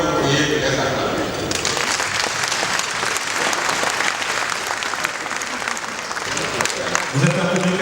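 Sustained applause from a large hall audience honoring Togolese footballers at an African football awards night, dense and steady throughout with a slight swell near the end.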